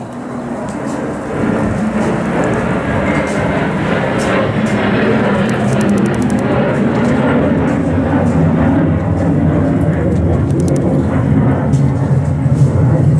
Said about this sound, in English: That was a really loud airplane.